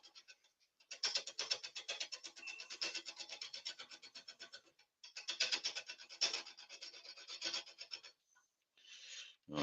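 A turning tool nibbles at the middle of a wooden workpiece on a lathe, giving bursts of close, gritty rasping and scraping with a fast rhythmic flutter, broken by brief pauses and ending in a short harsh scrape.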